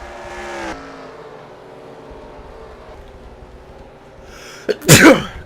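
A single loud, sharp sneeze bursts out near the end, close to the microphone, after a stretch of quiet race-car engine drone from a Sonoma racing broadcast.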